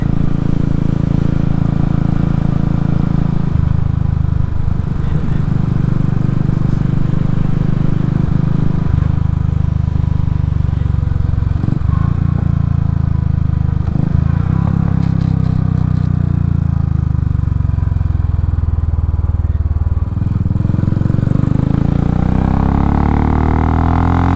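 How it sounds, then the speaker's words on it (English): A Royal Enfield Classic 500 fitted with a 19-tooth rear sprocket rides along, its engine droning steadily at low revs under heavy wind rush, with a few clunks and a rising pitch near the end. "Already you could feel that the bike is lower in the rev range to do the same speed."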